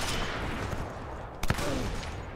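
A single sharp sniper rifle shot from a multiplayer survival match in Sniper Elite 4 cracks out briefly over a constant roar of ambient noise, followed by a faint ringing tail.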